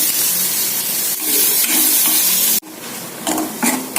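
Soya chunks with garlic paste sizzle loudly in a hot pan as they are stirred and tossed, with a brief scrape partway through.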